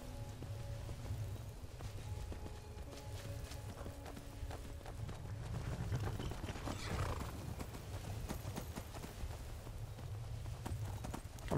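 Hooves of a horse clip-clop in the video game Skyrim as it is ridden, in a steady, fast rhythm over a dense, rain-like background, with an occasional faint whinny.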